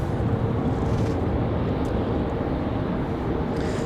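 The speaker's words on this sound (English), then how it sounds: "JetBlue A220 finally pulling out of line, getting ready" A JetBlue Airbus A220 jet taxis out of line at Raleigh-Durham airport ahead of departure, its engines a steady broadband roar mixed with wind, moderately loud and unbroken.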